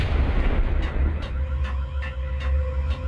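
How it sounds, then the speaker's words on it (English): Gunfire in the Max Payne video game cracks out about six times at a steady, even pace over a low rumbling background, with no talk. "Let's just actually shoot it this time."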